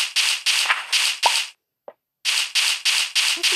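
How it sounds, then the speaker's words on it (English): Block-picking in the Minecraft-style game Multicraft: a series of loud, crunchy noise bursts in rapid rhythm, then a pause with a brief soft pop, then more bursts. "I'm picking up dirt."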